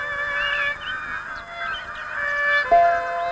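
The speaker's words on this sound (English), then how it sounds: "As the wild geese return from the Arctic to yelp a warning of winter's coming" Wild geese honk and yelp repeatedly, several calls overlapping over a soft background, with one louder nearby honk toward the end.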